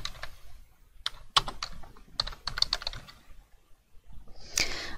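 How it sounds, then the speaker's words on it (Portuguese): Keys clatter on a computer keyboard as a name is typed into a LibreOffice Writer document, close and crisp, in irregular bursts of single taps with short pauses and a final cluster of quick strokes. "Aqui eu digitei meu nome."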